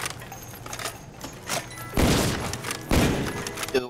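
Explosions in the Call of Duty zombies map Kino Der Toten: two loud, broadband blasts about a second apart, each with a dense rumbling tail, following lighter thumps and clatter.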